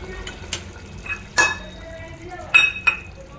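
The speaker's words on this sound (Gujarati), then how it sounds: "આપણે એને આવી રીતે થોડું મિક્સ કરી અને 2 મિનિટ ઉકળવા દેવાનું છે." Eggplant and potato curry (Kathiyawadi ringna bateta nu shak) being stirred in a pot as it simmers: a few separate scrapes and clinks of a spoon against metal over a low, quiet bubbling, with no talk.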